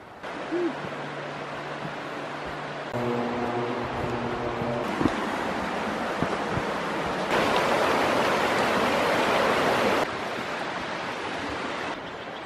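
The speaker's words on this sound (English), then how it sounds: "now we're getting a glimpse of the actual waterfall" Steady broadband rush of Skookum Falls near Enumclaw, a forest waterfall, heard from a distance along a trail, growing louder partway through as the falls come closer, with no talk.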